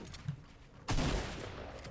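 Video game gunfire: a sudden loud volley of shots breaks in after a quieter stretch and carries on as sustained rattling fire to the end, with no talk over it.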